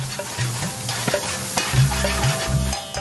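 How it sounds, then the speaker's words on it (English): Onions and chilli sizzle and crackle in a hot, large frying pan while a utensil stirs and scrapes through them in short, repeated strokes. "The chef fries some onions and some chilli in a large frying pan."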